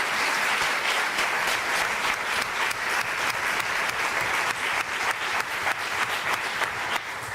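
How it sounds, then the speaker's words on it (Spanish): Audience at a talk on emotional health applauding the event organizers, steady crowd clapping with audible individual claps, moderately distant and continuous. "os pediría ya de entrada un aplauso para ellos"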